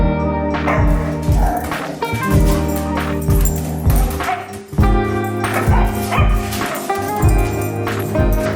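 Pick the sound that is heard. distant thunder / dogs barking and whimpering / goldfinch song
dogs barking and whimpering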